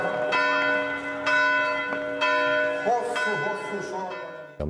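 A church bell rings at noon in a town park before a New Year's Eve run, with several rich, resonant strikes spaced about a second apart and ringing tones lingering between them, with faint crowd and voices in the background.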